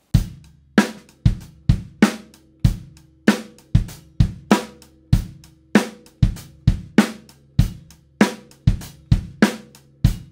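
A basic drum kit groove played alone: steady kick and snare hits with cymbal on top, repeating evenly at a moderate tempo, close and clear.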